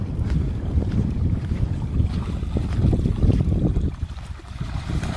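A 7.5 hp solar submersible motor pump runs at about 1500 rpm, delivering water in a continuous loud rushing, churning flow with some wind buffeting, briefly dipping near the end.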